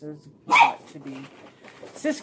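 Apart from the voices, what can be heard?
dog barking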